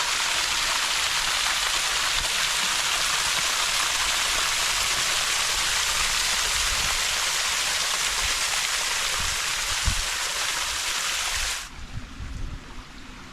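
Scalding hot waterfall spilling into the river in Goldstrike Canyon, a continuous close hiss and patter of falling water that holds steady for most of the stretch before cutting sharply quieter near the end.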